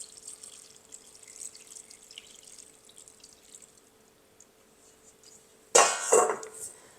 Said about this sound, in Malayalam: ഇതിനകത്തേക്ക് നമുക്ക് 2ാം പാൽ ഒഴിക്കണം